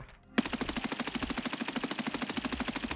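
An M4A1 rifle fires a long, steady full-auto burst in the shooter game Escape from Tarkov, rapid evenly spaced shots ringing out loud and close for nearly three seconds after a brief quiet start.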